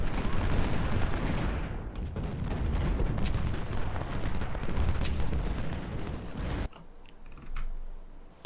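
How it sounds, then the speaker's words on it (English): Cannon artillery fire in the Civil War strategy game Ultimate General, 24-pounder guns booming in a dense rumbling barrage that holds for several seconds before dropping off abruptly. "Okay, cannons."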